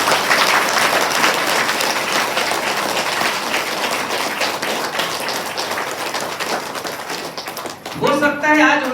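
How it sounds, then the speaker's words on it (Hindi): An audience in a training seminar hall in Pratapgarh bursts into loud, dense applause for the event organizer, sustained clapping that fills the room and then gives way to a voice. "मैं चाहता हूँ बार जोरदार क्लैपिंग होनी चाहिए"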